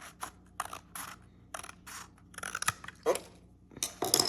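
Scissors snip through paper for junk journal hinges, a run of short crisp cuts in quick bursts at close range, with a few louder paper rustles near the end.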